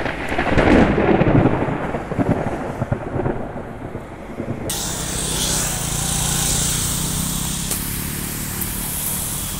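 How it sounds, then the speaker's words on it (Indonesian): Heavy rain pours down hard with thunder rumbling, a dense steady roar that swells and stays loud throughout, with no voices. "Hujannya deras sekali."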